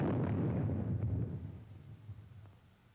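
Low-frequency rumble of a nuclear test detonation from a 280-millimeter gun-type shell airburst about 520 feet above ground, a heavy sustained roar that slowly decays over a few seconds with no voices.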